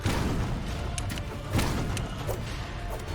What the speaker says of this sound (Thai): เฮ้ยระเบิด